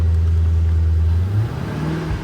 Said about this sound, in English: little bit of a belt squeak on startup